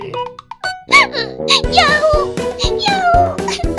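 A child repeatedly imitates a cat, giving a string of high, drawn-out meows, close and lively, with a few short playful vocal bits.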